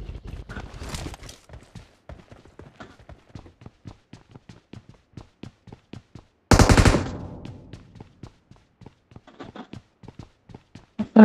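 Machine gun fire in PUBG Mobile crackles in a long string of sharp, evenly spaced shots, then erupts into one loud, dense burst before the steady shots resume.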